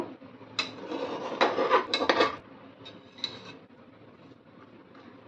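Spoon stirring dalia pulao with fried cashews and raisins in a pan: a few close scraping and rubbing strokes in a short burst, then quieter occasional scrapes and light taps.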